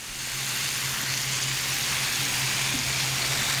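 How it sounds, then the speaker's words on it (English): Fleshy side down in a hot pan, the food sears with a steady, loud broadband sizzle and no break across the whole stretch, alongside a low constant hum. "You can hear a good sear there"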